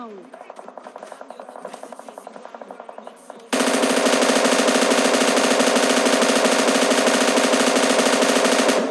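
An M249 machine gun fires in a video game, rapid bursts giving way to a loud, sustained stream of automatic fire that rattles on without a break.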